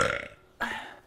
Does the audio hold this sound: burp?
yes